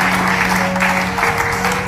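A church congregation breaks into loud applause and cheering during a prophetic service, with sustained clapping and crowd noise over a steady hum, and no talk heard.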